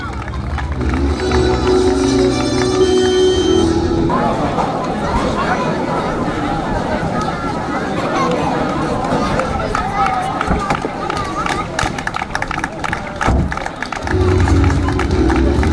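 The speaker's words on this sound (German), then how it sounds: "Ein Applaus!" A crowd claps and cheers outdoors at a small-town 3.5 km running race prize ceremony, a sustained wash of applause broken by an announcer's amplified voice at the start and end.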